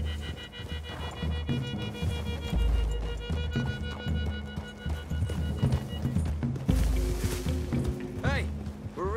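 Horse hooves pound in a steady galloping rhythm with occasional whinnies, layered under music and background talk, in the game Red Dead Redemption 2.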